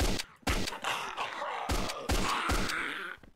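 Gunfire from a PS1 Call of Duty zombies game: several loud, sharp shots in quick uneven bursts with brief gaps between them, the last shot fading into near quiet.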